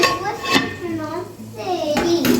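A lid clanks onto a pot of green seasoning frying for curried noodles, with sharp metallic knocks standing out over sizzling and a voice nearby.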